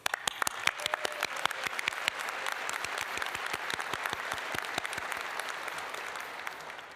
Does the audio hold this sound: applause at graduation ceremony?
yes